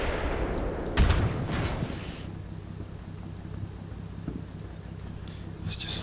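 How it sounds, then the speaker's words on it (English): In Combat Mission, artillery opens fire at enemy tanks with a single heavy, booming report early on, followed by a rumbling, windy low wash and faint distant thuds. "you can see immediately he's starting to shoot at enemy tanks."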